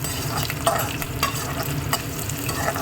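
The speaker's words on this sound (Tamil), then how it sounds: "பச்சை மிளகா போட்டிருக்கேன்னா கொஞ்சம் வதங்கினதும் நம்ம கத்திரிக்காய் போட்டுக்கலாம்." Green chilies sautéing in a pan give a close, steady frying sizzle, broken by brief stirring scrapes and clacks, with no voices.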